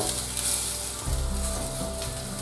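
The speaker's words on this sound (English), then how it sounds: "Just want to keep these meatballs moving." Spicy meatballs sizzle steadily in a frying pan as they are stirred and moved around, with a low scraping stir sound near the middle of the clip; loud, continuous and close, with no talking.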